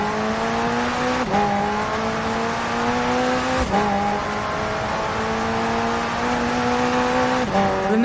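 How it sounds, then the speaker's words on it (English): A McLaren with a twin-turbo V8 hybrid drivetrain roars in Forza Horizon 4, its engine note climbing steadily through the gears with sharp drops at each shift, loud and continuous. "the car's blistering performance is delivered by a twin-turbo V8, supplemented by a McLaren ECU electric motor and instant power assist system"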